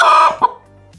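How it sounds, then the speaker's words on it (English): Chicken clucking in a short burst, a few close, loud clucks followed by a brief fainter call, heard alone with no talk. "Chicken."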